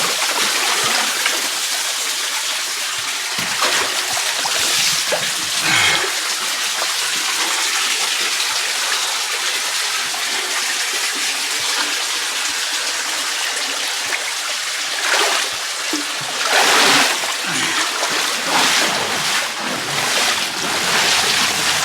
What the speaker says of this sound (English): I think there's a waterfall up ahead that I have to rappel down.